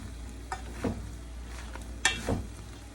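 Seasoned macaroni noodles being stirred in a pot, a few soft scraping and sticky stirring strokes that come and go, with no talk.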